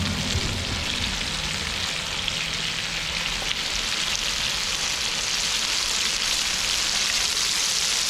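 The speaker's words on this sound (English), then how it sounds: "Get this bluegill fried up." Bluegill fish frying in a pan give off a loud, steady hiss and crackle of hot oil that stays close and constant throughout, with no voices.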